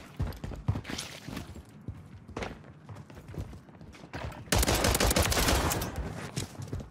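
Rapid video-game gunfire in a gunfight, bursts of shots crackling through the first half before a loud, sustained stretch of dense automatic fire near the end.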